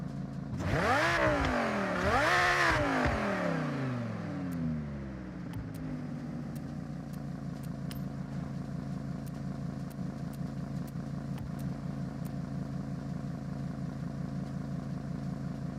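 Lamborghini V10 in Forza Horizon revving hard twice with rising and falling wails, then settling into a steady, loud idle with faint ticking clicks over the drone.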